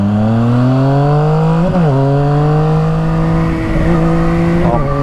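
Loud, close engine drone of a tuned car climbing steadily through the 5000 to 5500 RPM range, pitch rising in smooth pulls broken by brief gear-change dips.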